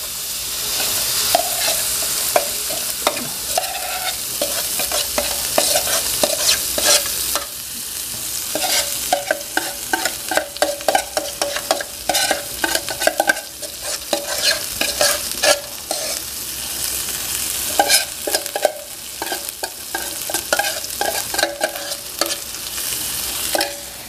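Rendang spice paste sizzles and fries steadily in a pan while a utensil stirs and scrapes through it. The sound is loud, close and continuous, with no talking.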